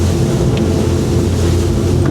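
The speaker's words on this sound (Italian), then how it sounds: "acceleriamo ancora un po' e vediamo a 40 nodi come si comporta questa" A loud, steady engine roar of a Scanner Envy 1100 motorboat running at about 40 knots, with wind and rushing water throughout.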